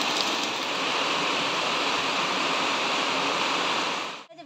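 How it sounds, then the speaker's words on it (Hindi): Heavy rain pours down outdoors in a dense, steady, close hiss that stays constant before cutting off abruptly at the end. "अभी तक तो बहुत ज़्यादा बारिश हो रही है"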